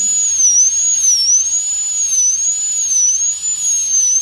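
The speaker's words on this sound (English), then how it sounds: "now when I am going to do on the other side I will just change the direction of the burr" A high-speed dental drill burr whines continuously while preparing a full metal crown on lower molar 46, its thin pitch wavering slightly as the load changes, with no talking.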